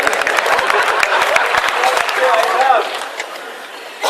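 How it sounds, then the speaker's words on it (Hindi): Audience clapping at a Hindi poetry recital by a poet, a dense burst of hand claps with crowd noise and a voice talking through it, steady then easing toward the end. "ताली बजाओ"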